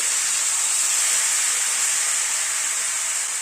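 Hot water poured into a pan of sizzling chicken curry with coconut milk and vegetables gives a loud, steady steam hiss that holds evenly from start to finish.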